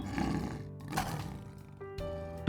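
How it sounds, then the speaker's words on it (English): A lion gives a couple of rough, breathy roars, moderately loud and somewhat distant, with a small sharp sound at the end. "lion"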